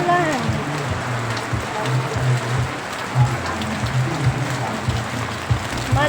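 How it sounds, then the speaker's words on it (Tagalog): Steady heavy rain hisses across the whole clip, with a low voice murmuring intermittently underneath. "Pumapatak ang ulan. Malakas ang ulan."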